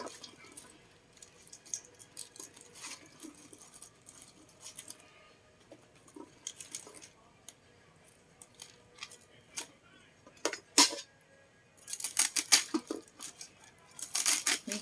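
Irregular sharp knife taps and chops through bok choy on a board, sparse at first then clustering into quick bursts near the end, close and fairly quiet.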